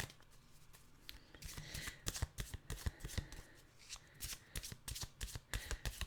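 A deck of animal oracle cards is shuffled by hand, with rapid riffling bursts and soft card slaps repeating in close, crisp clusters at moderate volume, nobody talking.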